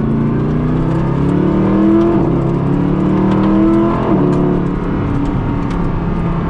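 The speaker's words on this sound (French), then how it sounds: "Une petite accélération tranquille." A Mercedes-AMG Black Series sports car engine revs and pulls steadily, with a deep, rising growl that swells and eases as it accelerates, close by and continuous.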